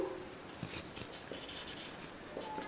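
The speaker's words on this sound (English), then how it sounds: "I'm going to write here" Writing on a board during a maths lesson: faint, irregular scratchy strokes over a quiet room background, with no speech.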